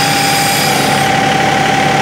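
Steady, loud drone of a John Deere 2038R compact tractor engine held at 1400 RPM while working a 220R front loader, with a constant hum and rumble and no talking.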